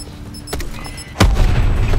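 Artillery barrage in Call of Duty: Black Ops 4, with a sharp crack followed by a heavy, loud boom that rumbles on alone for the rest of the moment.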